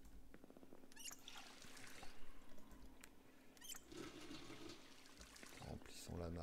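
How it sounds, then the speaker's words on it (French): In the Project Zomboid survival game, water is poured into a cooking pot with a soft, faint trickle and splash, under a person talking. "Remplissons la marmite au cas où on a besoin pour arroser"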